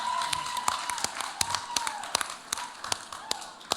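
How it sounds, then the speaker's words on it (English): An audience gives applause at an environmental careers talk, a short spell of clapping with a few sharp individual claps standing out, and a faint voice in the background. "A big round of applause."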